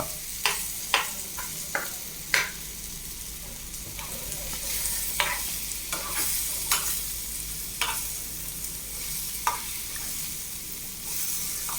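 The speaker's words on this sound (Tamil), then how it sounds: "அந்த வெங்காயம் தக்காளி அந்த பச்சை மிளகா எல்லாமே நல்லா வதங்கி" Onion, tomato and green chili sautéing in a pan for a pear stir-fry: a steady soft sizzle under repeated scraping strokes of a spoon stirring, close and moderately quiet, with no talking.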